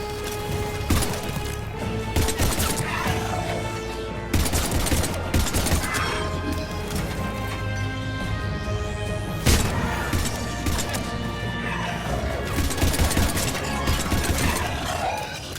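Rapid bursts of gunfire fill a firefight in the video game Mass Effect, loud, close and nearly continuous, with sharp impacts and mechanical clatter layered over game music, no talking.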